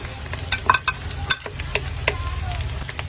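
Onion sautéed in leftover pork adobo oil crackles and sizzles in a pan while a spatula scrapes and taps against the metal in quick, uneven strokes, close and fairly loud.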